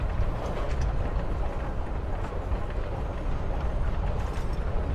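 A train rumbles along in Life is Strange: Before The Storm, a continuous low, dense rolling noise with faint mechanical rattles and creaks, steady and fairly loud throughout.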